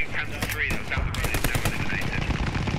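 Loud bursts of machine gun fire in the World War II shooter game Post Scriptum, rapid and sustained through the whole stretch, with voice chat over the shooting.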